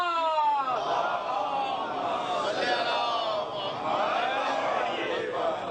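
A crowd at a majlis chants slogans together in loud, sustained voices that fill a large gathering, rising and falling without a break.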